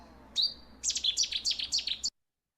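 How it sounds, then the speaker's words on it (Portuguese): High-pitched calls of a Eurasian penduline tit, a thin drawn-out whistle followed by a quick run of sharp, bright notes, close and clear against a quiet background. "estes sons muito agudos do chapim de faces pretas que se ouvem nos intervalos"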